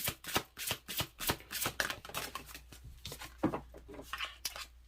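Tarot cards being shuffled for a Leo astrology reading: a close, steady run of crisp riffling bursts, roughly two per second, with no talking.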